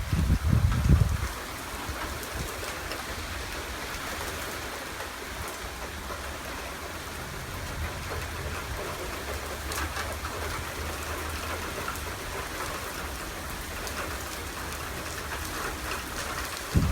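Torrential downpour in a severe thunderstorm, a dense, steady roar of heavy rain hitting surfaces that fills the whole stretch evenly, with a louder thump at the start and no voices.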